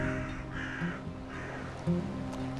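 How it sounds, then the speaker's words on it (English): Crows cawing near the ocean in Japan, two or three short harsh caws at moderate distance over a constant low hum and background noise, with no speech. "The crows here are insanely loud."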